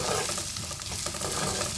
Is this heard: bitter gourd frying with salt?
yes